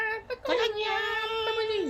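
A house cat gives a long drawn-out meow that holds steady and then bends downward at the end, preceded by a few short chirps, close and clear.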